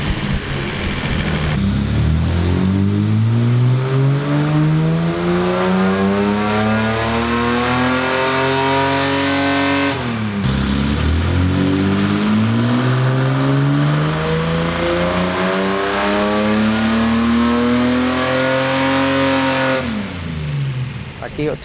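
A 1971 Datsun 240Z engine revs hard on a dyno in two long, rising pulls, each climbing steadily in pitch before cutting off, loud and close throughout.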